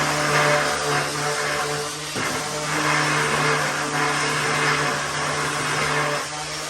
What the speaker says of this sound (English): You can use a sander